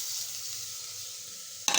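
Chopped tomatoes fry in a hot pan for a mutton kulambu, giving a soft, steady sizzle close by, with a sharper burst of spitting at the very end.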